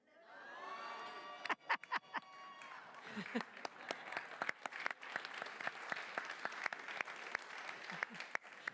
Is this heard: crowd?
yes